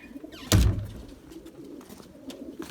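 Erzurum white pigeons coo softly in a loft, with low murmuring calls scattered throughout and a sudden loud knock or thump near the start.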